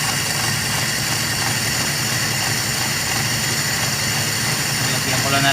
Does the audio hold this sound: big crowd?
no